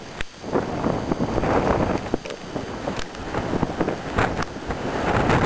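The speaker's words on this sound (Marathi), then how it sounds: "इतका वारा येतो, तुम्हाला त्या ह्याच्यावर आवाज येतच असेल ऐकायला" Strong wind in a snowstorm roars and buffets the microphone in uneven, surging gusts, loud and close throughout with no clear pauses.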